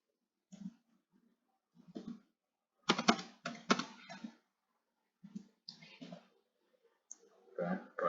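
Clicks and bursts of keyboard typing at a computer while entering a database name, heard as scattered short clusters of crisp taps separated by quiet gaps, fairly close and soft overall.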